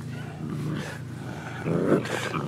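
Low growls from a seven-week-old Akita puppy, a steady rumble that swells louder near the end, close to the mic.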